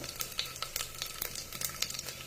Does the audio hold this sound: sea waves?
no